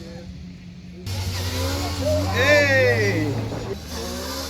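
Motorbike engine held at a steady high rev while the front wheel is lifted at a wheelie training day, loud and close, with excited voices shouting over it.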